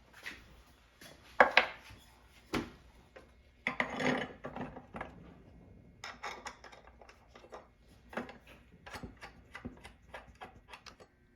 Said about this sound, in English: It's time to put the bolts back in the legs and then put the legs back on the tabletop.